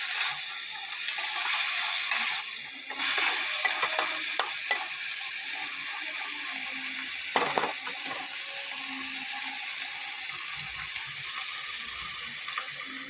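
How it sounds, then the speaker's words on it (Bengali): Shrimp fry in a pan in a home kitchen, a steady close sizzle with stirring and scraping sounds running throughout, plus some brief clatter. "তো এখানে চিংড়ি মাছগুলো ভেজে নিচ্ছি"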